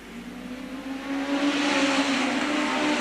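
Five lightweight-style National Hot Rods racing closely around a turn, engines swelling from a moderate drone to a loud, sustained whining roar as the pack draws nearer.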